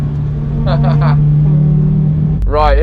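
A Honda Civic Type R EP3 drives on a race track with a loud, steady engine drone heard from inside, while a voice speaks briefly over it toward the end.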